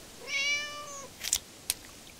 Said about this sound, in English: Next door's cat.